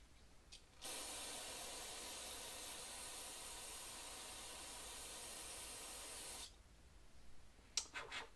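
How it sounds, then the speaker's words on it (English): Carburetor cleaner sprays in one steady, close hiss for about six seconds onto the carburetor of a STIHL FS131R string trimmer, with brief faint clicks before and after. "once I started spraying it down, a lot of stuff came off"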